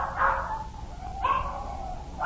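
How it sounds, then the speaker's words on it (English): Dogs bark and yip from the back seat of a car in an old-time radio drama, a few sharp barks spaced over a murky, noisy background. "What's all them dogs doing in my car?"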